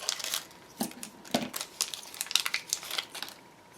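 Plastic packaging holding Nuvo crystal drops crinkles and crackles as it is opened, with a quick series of close, sharp rustles and snaps spread unevenly across a few seconds, no talking.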